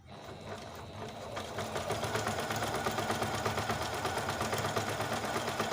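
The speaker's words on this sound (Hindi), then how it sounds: "तो 8 नंबर पे देखते हैं इसका कौन सा टांका बनेगा।" Juki sewing machine stitching pattern number 8, a steady fast mechanical whirring and ticking that starts up and runs continuously at close range.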